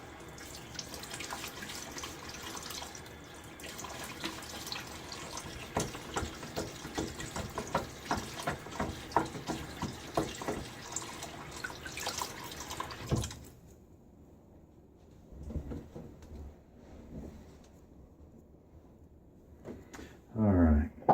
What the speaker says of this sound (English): All right, get my face wet again.